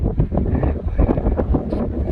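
Wind at Great Sand Dunes National Park buffets the microphone in low, gusty rumbles that rise and fall unevenly, loud and close throughout.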